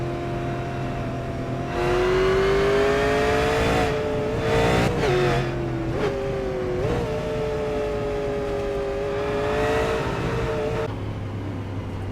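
Super late model race cars roar around Richmond Raceway, engines rising and falling as they pass close, with loud sustained revving and shifting through the whole stretch and no talk.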